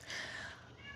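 A pet cat, a female housecat, meows once in a drawn-out, wavering call that fills the whole second, close and clear, with no talk over it.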